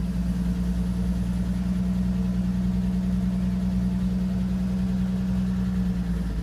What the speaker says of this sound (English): you pull the choke out and give it a crank, and she fires right up.